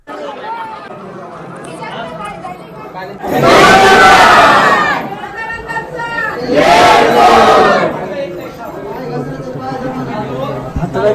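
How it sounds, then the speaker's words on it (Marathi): A large crowd of devotees at the Jejuri Khandoba temple, with steady chatter punctuated by two loud, surging bursts of massed shouting or chanting, close and dense. "दर्शनासाठी पण खूप म्हणजे खूप गर्दी आहे."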